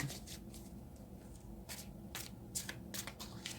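Tarot cards shuffled by hand in quick riffling bursts, soft crisp flutters recurring at close range with light handling noise between them and no talk.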